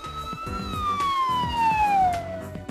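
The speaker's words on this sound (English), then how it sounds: "Those police cars!" Police car sirens wail in the video game Devil Survivor Overclocked, a falling tone sweeping down over a rhythmic game soundtrack at moderate loudness.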